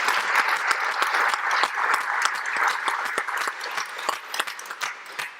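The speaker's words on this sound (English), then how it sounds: "let's do a round of applause for Ellen" An audience at a distinguished lecture applauds for a speaker, dense steady clapping from many hands that carries on throughout, loud and close with no voices over it.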